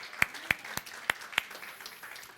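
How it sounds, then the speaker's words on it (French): A few sharp, separate claps ring out in a church congregation, five distinct hits spaced unevenly over about a second and a half, then fading into a soft, scattered patter. "Acclamons le Seigneur encore une fois pour sa parole."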